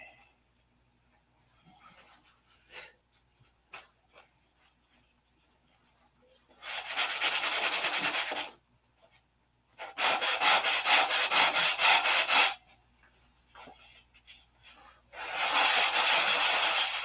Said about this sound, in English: Probably got a day's worth of detail sanding to go on it.